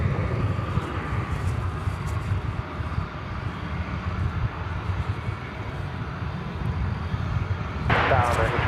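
Airliner arriving at DFW Airport, a steady distant jet rumble heard outdoors with light wind and a voice talking over it, before a louder burst near the end.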